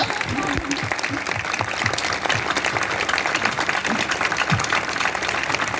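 Steady audience applause at a press awards ceremony in Izmir, a dense continuous clapping with a few louder claps standing out, filling the whole stretch.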